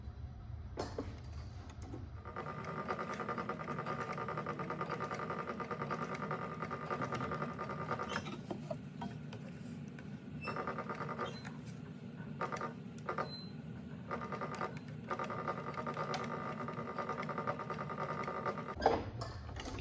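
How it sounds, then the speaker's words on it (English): A sewing machine stitching a leather weekender bag runs in a long, steady mechanical whir, close and even, with a short start and brief pauses and a few clicks near the end. "So I'm going to start from down here and I'm going to stitch all the way around"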